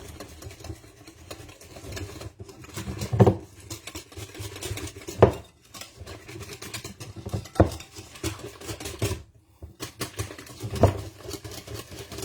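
Batter for an Italian apple cake mixed by hand, with scraping and clinking of a utensil against a bowl in irregular strokes and several louder knocks, fairly close and without talk.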